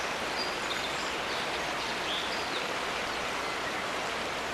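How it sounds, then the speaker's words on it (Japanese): A babbling brook gurgles and splashes in a steady, dense wash of running water, close and continuous, with a few faint bird calls above it. "せせらぎの音、木々の声、"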